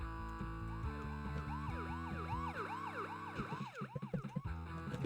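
A police car siren in a plug-and-play video game wails in rising and falling electronic sweeps over the game's looping synthesized music, steady and fairly loud.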